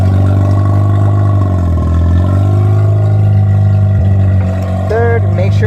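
Engine running steadily while the gearbox is shifted through the gears after a clutch job, a loud constant drone with small pitch dips at each shift, a voice talking over it.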